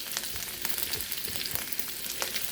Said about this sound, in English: So we're just going to saute it a little bit.